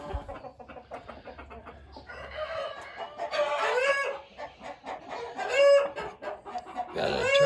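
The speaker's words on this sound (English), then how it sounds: "Look at these birds in here." Chickens in a farmyard pen cluck and chatter close by, with a rooster crowing loudly several times over the busy, overlapping bird calls.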